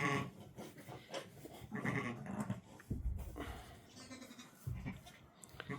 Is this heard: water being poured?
no